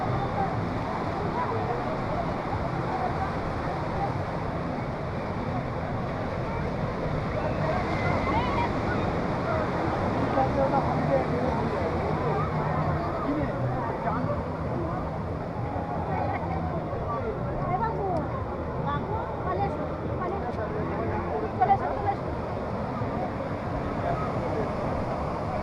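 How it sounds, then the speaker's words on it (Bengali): Surf and open-air wind at Udaipur beach near Digha, with a speed boat out on the sea; a steady wash of waves and wind fills the whole stretch, and people talk over it. "দেখুন একটা বোটিং হচ্ছে, মানে স্পিড বোট।"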